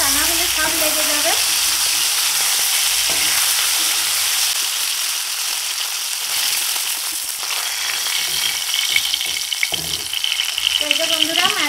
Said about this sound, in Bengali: মাছগুলো ভালো করে ভেজে নিয়েছি